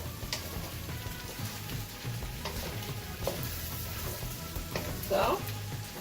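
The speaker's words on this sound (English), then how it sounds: "stir it up" Beijing beef sizzles in a pan as it is stirred, a low steady frying hiss with scraping strokes and a brief louder spatter near the end, no voice.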